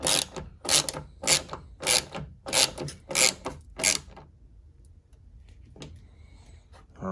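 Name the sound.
ratchet tightening bolt on Ford Expedition rear door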